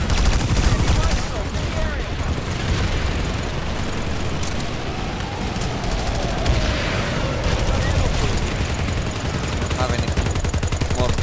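Sustained weapon fire in the Planetside 2 video game, a steady barrage of shots running throughout with battlefield noise, loud and dense, with faint voices mixed in.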